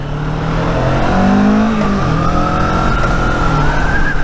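A McLaren supercar engine revs loudly up and down close by, its pitch rising and falling over a few seconds with no one talking.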